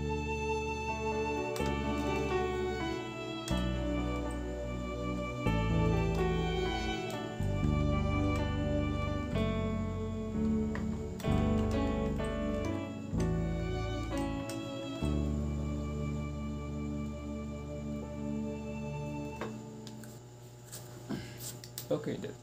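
Violin preset played on an M-Audio Oxygen Pro Mini MIDI keyboard in FL Studio, with sustained string chords and melody over a deep low layer, continuous and fairly loud with no talking.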